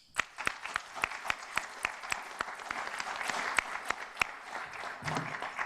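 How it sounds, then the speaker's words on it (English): Scattered clapping from a small audience at a Wall Street interviewing panel, individual sharp claps mixing into light, continuous applause that carries on steadily before thinning near the end. "let's give them a round of applause."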